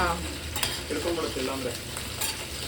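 Egg and potatoes fry in a steel pan, with a continuous busy sizzle and the scrape of stirring throughout, close and fairly loud.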